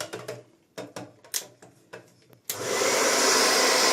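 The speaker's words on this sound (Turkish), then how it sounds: "öncelikle saç kurutma makinesiyle silikonların olduğu yere şu şekilde" A hair dryer heats silicone sealant under a bathroom sink: several short bursts and clicks, then the dryer blows steadily and loudly with a broad rushing whoosh for the last stretch.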